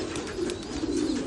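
A young almond-coloured racing pigeon coos softly in a brief, low, rolling murmur, faint and close, with no other sounds around it.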